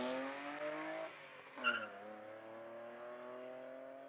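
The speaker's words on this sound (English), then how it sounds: "Johan Zulch up in the E30 BMW just started off the start line." BMW E30 race car launching off the start line at the Cape Town hill climb, a loud engine note that rises and shifts, with a brief tire squeal partway through as it pulls away.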